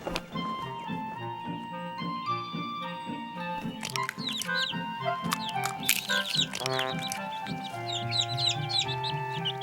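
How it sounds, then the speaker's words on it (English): Cartoon birds chirp, cluck and twitter over a gentle melodic music track, with the calls growing busier toward the end and no one speaking. "There were birds,"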